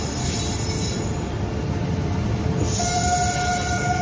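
Sairang Express passenger train pulling out of Kolkata, a loud steady rumble of rolling wagons with high squealing wheels on the rails building in the last second and a half, no voices.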